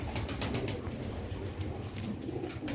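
Sialkoti roof pigeons coo softly in low repeated murmurs over a steady outdoor background, with a few faint chirps and light rustles and no talking.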